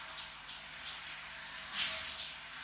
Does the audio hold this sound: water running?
yes